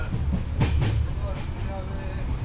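A passenger train runs near Puri, giving a low steady rumble with faint rhythmic rattling, moderately loud throughout, while a man sings softly in the background.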